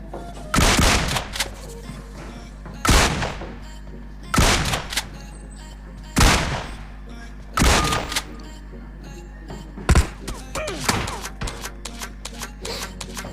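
A DBS shotgun in a video game fires six or seven heavy, booming blasts spaced a second or two apart, each with a sharp crack and a short decaying tail.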